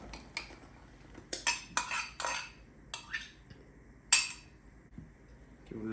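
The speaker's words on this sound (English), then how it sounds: "Give it a little bit of a stir." Utensil scraping and clinking against a bowl while pizza dough mixture is stirred, in a series of separate sharp metallic strokes at close range, with no talk.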